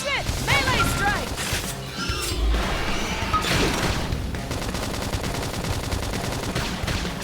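Gunfire and combat effects from the video game Xenoblade Chronicles X, dense and continuous with sharp bursts, booms and crashes layered over game music, while voices talk over the action.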